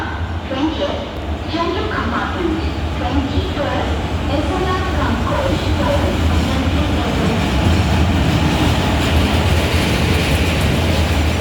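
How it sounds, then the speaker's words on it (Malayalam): Passenger train heading to Guruvayur rolling along the rails, a loud continuous rumble from inside the carriage with a rhythmic clickety-clack of wheels over joints, while people talk nearby. "അത് നമ്മൾ ട്രെയിനിൽ കയറിയിട്ടാണ്"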